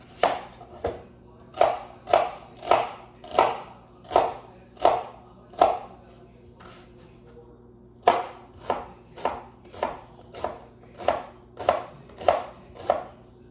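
An onion being chopped on a cutting board for a crockpot Bolognese, loud close knife strikes in a brisk regular rhythm of about a dozen chops, a short pause midway, then another even run, with no talking.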